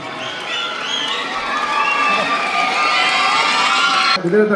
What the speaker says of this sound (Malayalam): എല്ലാവരും കയ്യടിയോടുകൂടെ അദ്ദേഹത്തെ സ്വാഗതം ചെയ്യുക